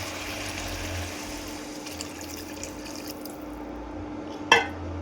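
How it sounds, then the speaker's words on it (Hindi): Water poured into a pan of spiced potatoes seasoned with salt, chili, turmeric and tikki masala, giving a steady, soft liquid trickle and sizzle with a brief splash near the end. "अब मैं डालूँगी इसमें पानी।"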